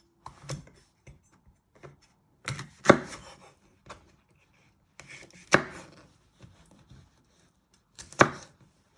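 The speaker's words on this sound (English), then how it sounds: "And then you want to just chop it into medium-sized chunks." A knife chops a bell pepper into medium chunks on a board: sharp, close thuds arrive in small irregular clusters with brief pauses between them, and no voices.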